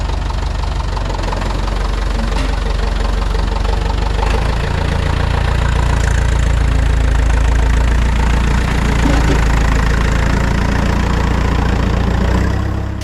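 A steady, loud tractor engine idles close by with a low, continuous rumble and faint knocking, running unchanged throughout with no voices.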